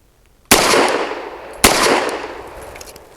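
Two loud, close pistol shots from a Fusion Firearms Ermox XP Pro firing Federal Premium HST 124 grain rounds, about a second apart, each with a sharp crack followed by a long echoing decay.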